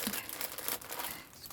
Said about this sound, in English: excuse the rustling, I've got some thistle fabric.